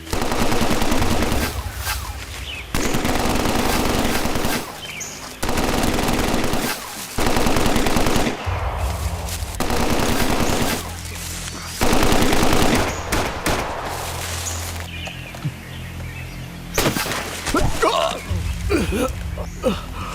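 Heavy machine gun fire rattles in repeated loud bursts through a dubbed action-thriller movie scene, with short pauses between volleys and voices breaking in now and then.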